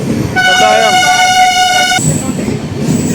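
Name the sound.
Amrit Bharat Express train arriving at Kottayam station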